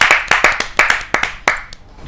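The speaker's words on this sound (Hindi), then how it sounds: "जोरदार तालियों से स्वागत कीजिए वर्षा कौशल जी" A sparse handful of hands clapping at a Hindi poetry gathering to welcome a poet, with about eight sharp, uneven claps heard close and loud, no voices.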